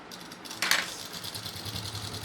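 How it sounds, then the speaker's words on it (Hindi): A sewing machine stitches fabric along a curved seam on a pocketed undergarment, giving a soft, steady mechanical whirr with one brief louder rasp early on. The sound is quiet and close, with no one speaking. "इस पे ऐसे सिलाई चलाएंगे गोलाई में"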